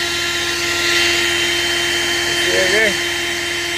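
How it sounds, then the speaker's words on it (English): A running vacuum cleaner drones loudly and steadily inside a truck while a brush sweeps debris toward it, with someone talking over the motor noise. "I just sweep it towards the vacuum cleaner."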